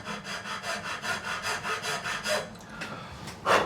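Steady rhythmic back-and-forth rasping of a file cutting a guitar nut slot on a Lag Tramontane T70 acoustic, about two strokes per second, close and clear, ending with a few lighter scrapes and a knock.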